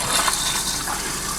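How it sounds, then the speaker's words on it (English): Water rushes into the toilet bowl of an Airstream RV as it is flushed, a loud, close gushing stream that runs steadily throughout without talk. "there's one flush."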